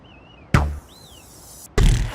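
Two sharp, heavy thuds of arrows striking an Olympic archery target board in the London 2012 video game, spaced about a second apart, with faint whistling tones between them.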